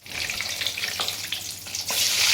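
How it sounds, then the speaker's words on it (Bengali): Eggs lightly frying in a pan while making chicken biryani, a close, steady, watery hiss that swells louder toward the end, with faint clinks. "এবার আমরা হালকা করে ডিমগুলোকে একটু ভেজে নেব"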